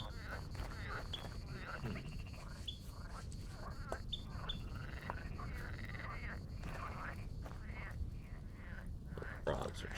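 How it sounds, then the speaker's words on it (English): Frogs croaking and chirping in the survival game Vintage Story, a continuous chorus of small repeated calls under faint whispery speech and other ambient game sounds. "Frogs are chirping, that's for sure."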